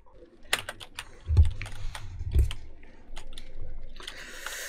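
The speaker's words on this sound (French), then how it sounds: "C'est le micro qui détecte plus le clavier" Rapid clicking keystrokes on a computer keyboard, a close, busy run of taps with a couple of heavier thumps, played alone without talk.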